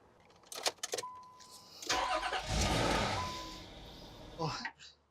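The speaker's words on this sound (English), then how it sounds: "we'll go ahead and start the car and do a pressure test with the engine running" A car engine cranks and fires up during a fuel pressure test, preceded by a faint jingle of keys and clicks, then settles from a loud start into a rumbling idle.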